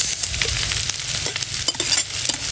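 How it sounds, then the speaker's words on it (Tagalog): Vegetables and carrots sizzle and fry in a hot pan while being stirred, a steady loud crackle with scraping stir strokes throughout, no talking. "at hahaluin lang po natin"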